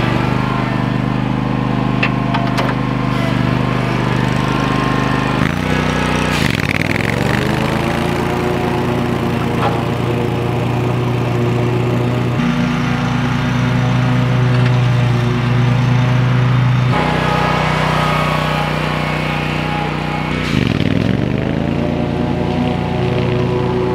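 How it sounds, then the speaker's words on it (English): Lawn mower engine running continuously near a garden fence, a loud steady drone with pitch dips as the load changes, no talking. "let's fire up the mower and get some mowing done real quick"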